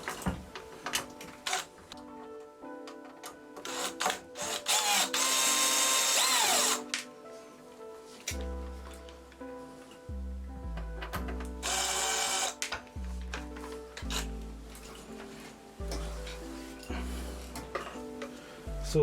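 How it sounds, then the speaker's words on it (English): A power drill drives out screws on a CR10S Pro 3D printer during a BLTouch upgrade. Repeated close, loud whirring bursts rise and fall in pitch, separated by short pauses and small clicks of parts being handled, with no talking. "So 12 screws in total that you have to take out."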